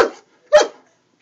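A German shepherd gives two short, sharp barks close by, spaced about half a second apart, with silence around them.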